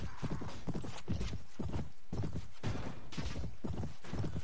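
Horse hooves gallop in the video game Mount & Blade Warband: Viking Conquest, a steady, rhythmic clip-clop of hoofbeats repeating evenly throughout at moderate loudness with no speech over it.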